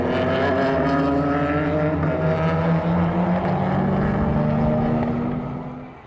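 Porsche race cars roaring along a wet track at Portimão, loud engine drones overlapping and shifting pitch as the cars pass, with no speech.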